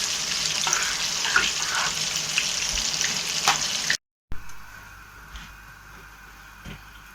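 Macaroni made from durum wheat boiling in a pot and being stirred, a steady bubbling hiss with soft scraping knocks, briefly cut off then resuming more quietly.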